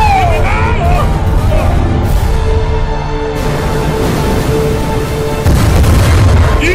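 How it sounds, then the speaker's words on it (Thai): Loud booms and blasts of explosions with gunfire in a Thai war film about a warship, dense and continuous with shouted voices mixed in. "ยิงเข้ามา"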